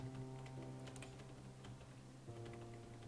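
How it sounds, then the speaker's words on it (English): A computer keyboard's spacebar is pressed repeatedly while playing a game, giving faint scattered clicks over a steady low hum with no talk. "I'm just gonna press my spacebar repeatedly"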